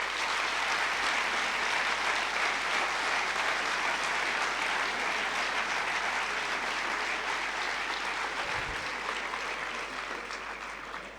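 Audience applause at an award ceremony, a sustained dense clapping from a hall full of people, steady and loud for the whole stretch before easing slightly at the end.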